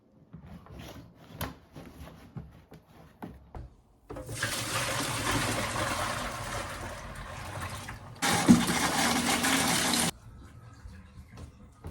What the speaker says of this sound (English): I'm putting in last bit of water.